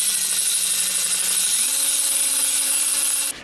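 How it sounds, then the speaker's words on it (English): A ring filer grinds a piston ring for an LS stroker engine build, a steady high-pitched abrasive whine with a shifting lower hum, continuous and close, ending abruptly. "this is a ring filer"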